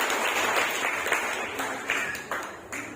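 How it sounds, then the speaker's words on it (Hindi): A Hindi-speaking church congregation claps loudly in praise of the Lord, a dense wash of applause from many hands, close and sustained for a few seconds before tapering slightly. "जोरदार ताली बजा सकते हैं प्रभु के लिए"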